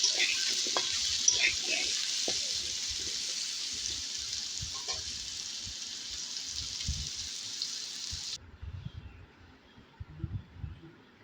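Potatoes frying in a wok: a loud, dense sizzle with scattered stirring clatter runs for about eight seconds, then cuts off abruptly, leaving quieter low knocks and handling sounds.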